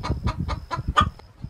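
Chicken clucking in a quick series of about six short, throaty pulses, close and moderately loud, with a faint steady tone behind.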